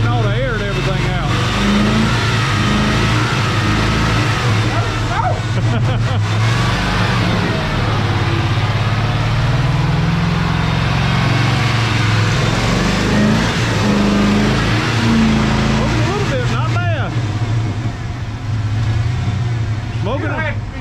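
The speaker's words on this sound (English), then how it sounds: "Give it gas. Rev it up." An abandoned 1992 Ford F150 truck being brought back to life idles and revs in repeated surges, loud and close, while people talk nearby throughout.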